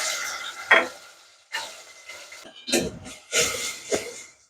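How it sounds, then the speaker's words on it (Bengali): Paste of onion, garlic and green chili dropped into hot oil, giving bursts of loud sizzling with stirring scrapes in an uneven rhythm of about five surges, close up. "তেলটা গরম হয়ে গেছে এখন আমি পেঁয়াজ রসুন আর কাঁচামরিচ পেস্ট করে নিয়েছি সেটা দিয়ে দিলাম"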